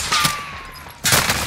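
Video game gunfire crackles in two short, sharp bursts, one at the very start and another near the end, with a quieter gap between them.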